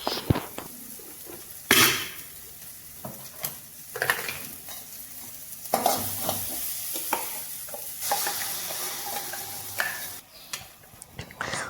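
Masala with coriander sautéing in a pan, a close sizzle under repeated scraping stirs and occasional clinks of the spoon against the metal pan, without speech.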